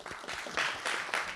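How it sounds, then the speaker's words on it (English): Short, fairly quiet round of audience applause at a peace and security conference for a professor being introduced, a soft rippling clatter of many hands in a hall. "Please give her a big applause."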